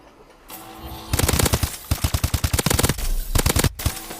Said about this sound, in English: So we're going to go into the firing range and show you guys how this gun works.